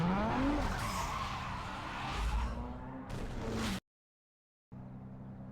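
A Nissan 350Z with a 3.5L V6 roars on a drag strip in Need For Speed Underground 2, engine revs rising through gear shifts with tire squeal, loud and close, then cutting to silence before a low idle hum returns.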